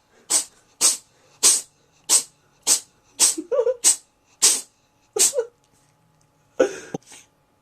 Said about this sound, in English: I'm being rudely interrupted by, by epic sneezing.